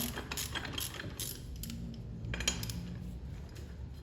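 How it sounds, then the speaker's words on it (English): A stubby ratchet wrench turning fasteners on Volvo XC90 parts, giving rapid, steady clicking from the pawl throughout, close by with no talking. "Then I'll go over with the only ratchet that I have, which I'm not able to get much torque on because it's a stubby"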